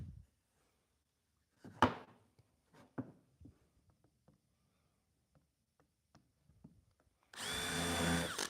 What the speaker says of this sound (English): Putting in a couple of pilot holes.